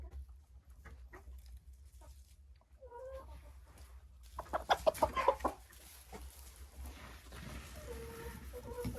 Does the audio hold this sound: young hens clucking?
yes